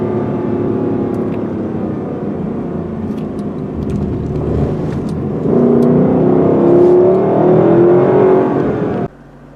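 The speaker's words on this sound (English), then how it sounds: "This engine's got a lot of guts." A 2021 Lexus LC500 Convertible's engine runs loudly and close, rising in pitch as it revs up partway through, then cuts off suddenly.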